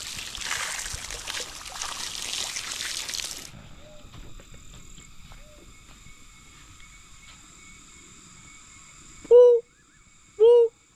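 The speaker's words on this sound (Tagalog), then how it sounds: "Puro huni po ng tikling." Barred rails, or tikling, call on a farm after a stretch of running water fades out. Two short, loud, hooting notes come near the end, close by, with faint steady tones beneath.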